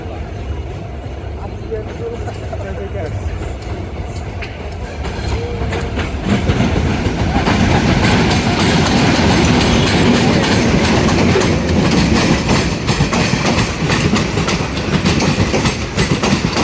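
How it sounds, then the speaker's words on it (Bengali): A Balaka passenger train on a Bangladesh railway line swells from a distant rumble into a loud, close, continuous clatter of wheels over the rails as the coaches roll past, and voices can be heard faintly over the noise. "চলে আসছে কোথায় থেকে ট্রেনটা দেখি কোথায় থেকে আসছে"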